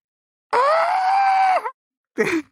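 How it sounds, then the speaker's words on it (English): A person screams at full force at the top of their lungs, one long sustained shriek of about a second, then a shorter cry after a brief silence. "I'm just going to scream as loud as I can at the top of my lungs"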